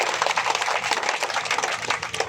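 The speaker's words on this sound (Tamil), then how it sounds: "பலத்த கரகோஷத்தை எழுப்பி நன்றி தெரியுங்கள்." Crowd of protesters at a disability rights demonstration claps steadily and loudly for the whole stretch, a dense wash of hand claps with no clear voice over it.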